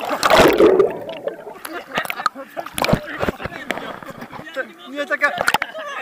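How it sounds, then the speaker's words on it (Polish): A big wave strikes a boat with a loud, close splash and spray at the start, followed by sloshing water and knocks while people talk and shout excitedly throughout. "Taka fala duża poszła, że ja nie mogę."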